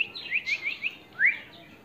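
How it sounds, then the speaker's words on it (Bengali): A pet parrot in a cage gives a quick series of short, high chirps, then one longer, louder call, close and clear with nothing else around it. "দেখি পাখিটিকে আসলে কথা বলে কিনা"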